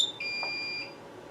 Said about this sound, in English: about every 30 seconds it's going to beep again, because a short on the SLC is a pretty serious matter